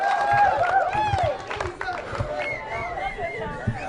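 An audience at a spoken-word show cheering and calling out together, a loud burst of whoops and shouting that gradually settles into lively crowd chatter.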